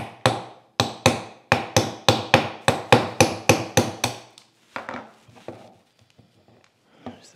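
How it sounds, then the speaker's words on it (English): Tapping a pin through the yoke of a Stanley Bedrock 604-1/2 hand plane during restoration: about a dozen sharp, evenly spaced hammer taps, loud and close, then a few softer scattered knocks. "I really don't want to grab a hold of that with a pair of pliers and score it, so I'll see if I can't tap it all the way through."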